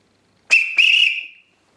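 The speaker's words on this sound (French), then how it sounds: "Le sifflet fonctionne." A handmade brass roller whistle gives two quick shrill blasts, a short chirp then a longer sustained trill of about half a second, close and clear against silence.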